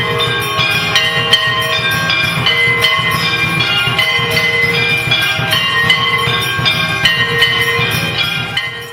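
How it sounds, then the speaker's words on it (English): Temple arti bells and gongs struck by a small machine in Vraja, a dense, continuous metallic clanging and ringing at a fast steady pace, loud and close throughout. "we find this amazing little machine which is assisting the arti sound effects"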